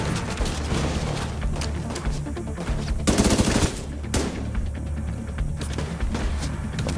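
Rapid turret gunfire in The Division 2 video game, loud sustained bursts of automatic shots with sharp cracks and a heavier volley midway, continuous and close throughout.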